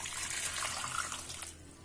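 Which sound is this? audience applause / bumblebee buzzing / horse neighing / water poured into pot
water poured into pot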